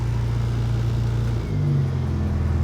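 A Toyota KE35 hardtop with a rowdy, baffled exhaust runs steadily with a low rumble, then revs briefly and settles, close and loud with no talking.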